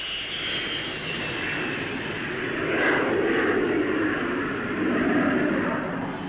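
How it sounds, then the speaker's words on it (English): A jet aircraft comes in to land at the Farnborough Airshow, its engine roar steady and fairly loud at a distance, swelling slightly as it passes, with no talk. "Coming into land, the nose is lowered."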